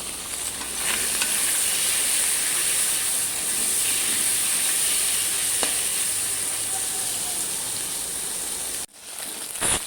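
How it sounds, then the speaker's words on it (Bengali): Pakal fish rubbed with salt and turmeric fry in a pan with a continuous, close sizzling hiss and faint occasional stirring, holding steady until the sound cuts out near the end. "মাছগুলো ভাজা হয়ে গেছে, এবার আস্তে আস্তে সবকটা মাছ তুলে নেব"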